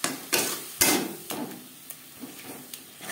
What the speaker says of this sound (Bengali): এভাবে একটু ম্যাশ করে দেব।